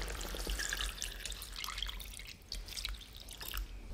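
Boiling water, 1.2 litres, is poured into a cooking pot over a medium flame for a pork rib noodle broth, a close, continuous splashing and gurgling of liquid.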